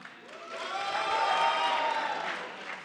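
Live comedy roast show audience in Seattle bursts into applause and cheering, a dense swell of clapping and voices that builds toward the middle and then tapers, heard at moderate distance.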